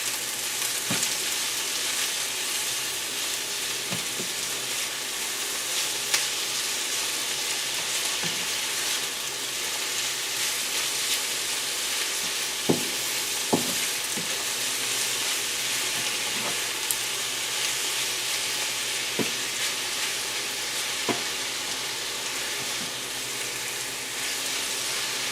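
Kielbasa with apple sauce and brown sugar sizzles steadily in a hot pan, a constant close frying hiss broken by a few sharp utensil clicks and scrapes as it is stirred, with no talking.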